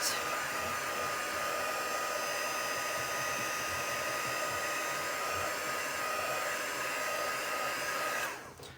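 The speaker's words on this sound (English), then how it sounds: "So I'm just going to give it a quick heat set." A handheld heat tool set to heat runs steadily over freshly applied Distress Oxide ink, a loud continuous blowing roar that holds for about eight seconds before cutting off at the end.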